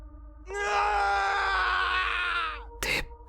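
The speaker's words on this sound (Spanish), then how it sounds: "los gritos del hombre se convirtieron en chillidos espeluznantes" A man's scream, loud and sustained for about two seconds with a strained, harmonic-rich tone, then a brief sharp noisy burst near the end, a horror-story sound effect.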